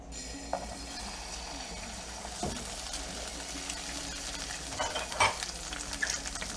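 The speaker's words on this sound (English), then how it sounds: "let's get her egg in" An egg fries in a hot pan for loco moco, giving a continuous soft sizzle with a few crackles and small spatters, fairly quiet and close, without anyone talking.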